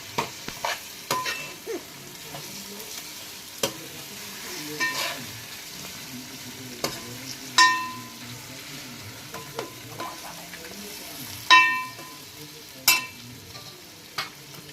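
Fish curry being stirred in a pan with a spoon, irregular scraping and clinking strokes over a soft low sizzle, spaced every second or two, close and moderately quiet with no talking.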